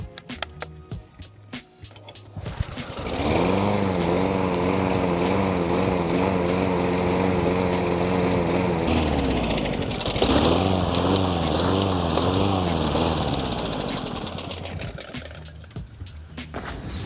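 Small lawn mower engine revving up after a few clunks and running loud and steady nearby, its pitch wavering and briefly dipping before it picks back up; the mower tends to die off once warm.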